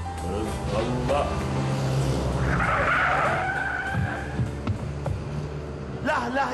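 A car skids with a long tire squeal across a busy dramatized street scene, loud and close, while voices talk over the noise.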